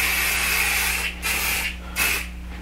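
Short hissing bursts of 505 temporary spray adhesive hit quilt batting, three spray pulses in quick succession, close and fairly loud with brief gaps between them.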